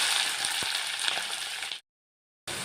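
Chopped onion, tomato and green chilli sizzle in hot oil for kozhukkatta filling. A close, steady frying hiss breaks off for a moment of silence and then resumes.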